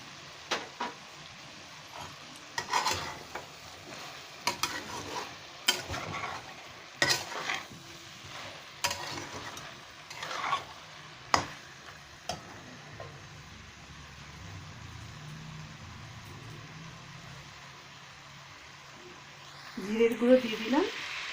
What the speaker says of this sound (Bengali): একটু নেড়ে নেব। এবার আদা কুচিগুলো দিয়ে দিলাম।